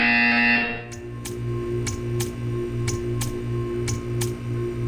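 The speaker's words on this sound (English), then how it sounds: "You will hear a buzzer. When you hear the buzzer, stare at the art." In the video game Portal 2, a high electronic tone cuts off, then a loud buzzer sounds in short repeated pulses, roughly twice a second, over a steady low hum.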